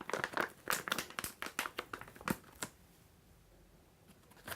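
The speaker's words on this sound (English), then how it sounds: "you can roll the bandage back up and reseal it in the foil." Foil packaging crinkling in a quick run of sharp rustles as a cold-therapy bandage is rolled up and resealed, then quiet.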